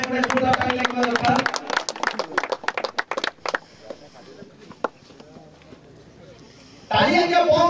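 Audience applause for Pulu Parik of CRN 11 Talcher, named man of the match at a cricket post-match award ceremony in Cuttack, with bursts of clapping mixed with a speaker's voice, then a louder surge of applause near the end.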